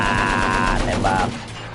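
Rapid automatic weapon fire in a video game, a steady dense rattle lasting over a second before fading, with some speech-like sound mixed in.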